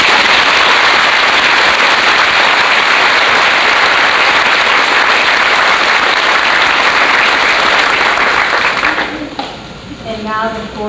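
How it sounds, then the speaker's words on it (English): A large crowd at a school senior assembly applauds loudly and steadily for scholarship winners, a thick wash of clapping that holds for about nine seconds before dropping off as a voice begins speaking. "Please join me in a round of applause."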